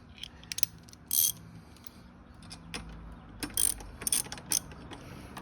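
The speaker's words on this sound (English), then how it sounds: "Let's start to see if I could screw it in." Ratcheting clicks while a bolt is screwed into an engine guard on a Honda Dax125 motorcycle, with short bursts of quick metallic ratchet strokes separated by pauses, close and moderately loud.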